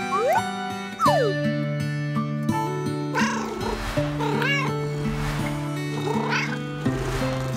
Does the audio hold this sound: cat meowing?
yes